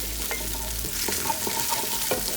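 Garlic and ginger sizzle in hot oil while being stirred, a steady crackling fry punctuated by several scraping strokes of a utensil against the pan.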